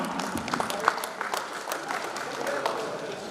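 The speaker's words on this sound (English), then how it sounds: "Please give them a round of applause." A room full of people claps steadily at a corporate and inter-B-school quiz competition, a dense patter of applause with murmuring voices mixed in, fairly loud and sustained throughout.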